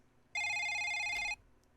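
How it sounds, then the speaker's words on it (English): A telephone in a visual novel game gives one bright electronic ring burst lasting about a second, loud and clean against near silence. "The phone rang, and rang, and rang."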